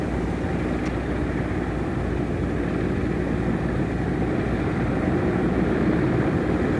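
Aircraft airlifting a section of the Our Lady of the Rockies statue near Butte, Montana, a steady droning engine rumble heard at a distance, continuous and unbroken.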